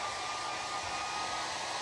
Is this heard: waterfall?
no